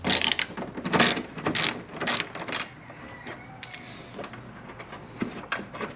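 A ratchet loosening 12 mm bolts on a bar in a Genesis engine bay, with bursts of rapid close clicking, then quieter intermittent turns and ticks.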